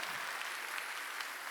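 Congregation applause during a Korean Sunday church service at Jesus Center Church, a continuous, even wash of many hands clapping at a moderate distance, with no voices over it.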